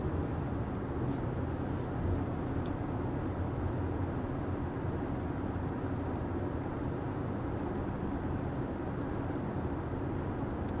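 Inside a 2023 Hyundai Tucson at highway speed, about 55 mph, a steady broadband road and wind rumble fills the cabin, even and unbroken throughout.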